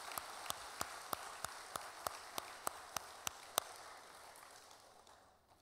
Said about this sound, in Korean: 우리 교회 학교 아이들을 위해서 한번 또 큰 박수로 격려해